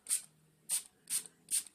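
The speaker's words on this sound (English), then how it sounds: "So I just wet my brush with my LA Color setting spray." A setting spray bottle is pumped onto a makeup brush four times in a steady rhythm, each a short, soft, close hiss in an otherwise quiet room.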